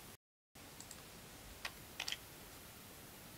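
A few quiet, sparse clicks of typing on a computer keyboard sound against a low room hiss, with a short dropout near the start.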